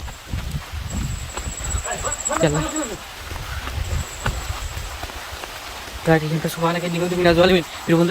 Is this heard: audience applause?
no